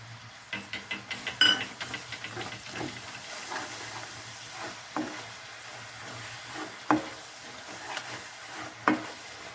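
Grated coconut is sautéed in a pan for coconut poli: repeated scraping stir strokes, sharp at first and then spaced out, sound over a soft, low sizzle.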